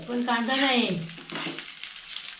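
Rice frying in a pan with a mustard seed and cumin tempering gives a steady close sizzle and stirring scrape, opened by a brief rising tonal sound.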